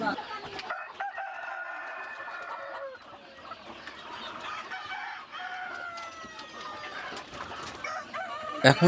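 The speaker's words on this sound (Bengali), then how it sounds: "যে মুরগিগুলো দেখতে পাচ্ছেন এগুলো হচ্ছে টাইগার মুরগি" Tiger-breed chickens on a large fancy-poultry farm in Sirajganj cluck and chatter continuously at close range, with a rooster crowing loudly, under faint background voices.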